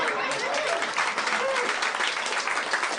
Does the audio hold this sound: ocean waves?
no